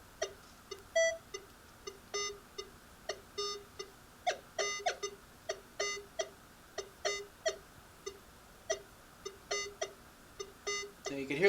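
Minelab Equinox 800 metal detector in Park 2 default mode sounding a penny and nail test: a steady run of short, bright electronic beeps in quick pulses, some with doubled tones, repeating throughout over a faint background hum.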